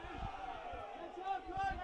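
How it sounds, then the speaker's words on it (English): Hockey crowd at a men's league relegation match reacting with sustained, fairly loud jeers and shouts at an umpire's decision, a continuous wash of voices under commentary talk. "The crowd really didn't like that decision"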